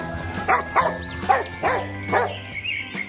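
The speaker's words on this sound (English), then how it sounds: "D for dog." A dog barks about six times in a steady rhythm, the barks clear and fairly close, with a soft musical tone sustained underneath.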